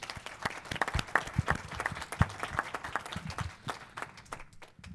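Audience applause after a fast pitch competition presentation, a lively burst of many hands clapping with sharp individual claps, fading slightly toward the end.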